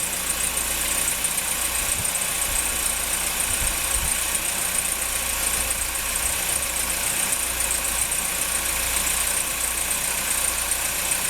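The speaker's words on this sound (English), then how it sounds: "So my rebuilt engine's running" The rebuilt engine of a Citroen DS23 idles steadily, a constant hissy mechanical drone with an even, unbroken hum and no voices over it.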